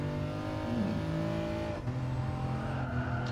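BMW M4 engine pulling hard in third gear on a twisty road, heard from inside as a steady, loud harmonic drone that holds throughout with a brief dip midway.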